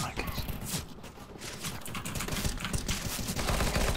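Rapid bursts of gunfire in the video game CS:GO, dense crackling shots running throughout at close range with no clear pauses.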